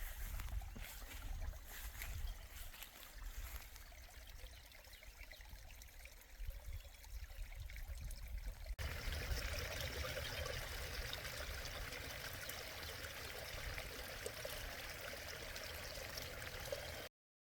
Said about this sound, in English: I hear a little babbling brook.